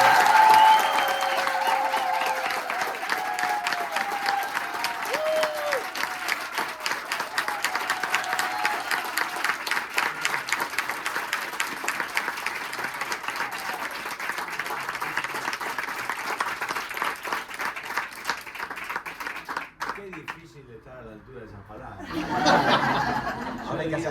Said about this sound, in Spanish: Démosle la bienvenida con un fuerte aplauso a Mauricio Dayub.